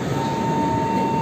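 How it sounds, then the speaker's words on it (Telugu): The Danapur–Secunderabad Superfast Express (12792) at Prayagraj Junction sounds a steady, sustained horn over a loud broadband rumble of rail noise, continuous for the whole moment with no talking. "ట్రైన్ అయితే హాంగ్ కొట్టింది ఫ్రెండ్స్"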